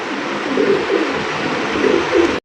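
Royal Raj Golla pigeons coo in repeated soft, throaty bursts, close by, over a steady background hiss.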